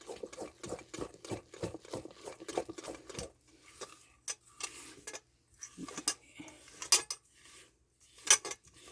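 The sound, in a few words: mixing batter in a bowl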